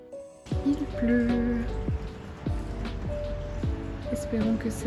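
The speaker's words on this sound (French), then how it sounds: "Il pleut." Rain falling during a weekend stay in Avignon, a steady patter of drops under a voice talking over it, with faint tonal sounds in the background.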